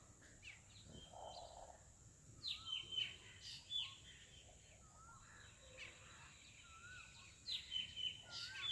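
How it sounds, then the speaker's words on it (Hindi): Faint outdoor birdsong at a yoga training centre in Bhabhua, India, with an Asian koel among other birds: scattered distant chirps and repeated short calls rising and falling over quiet background hum. "कहीं से कोयल की आवाज"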